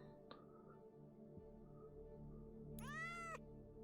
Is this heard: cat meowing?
yes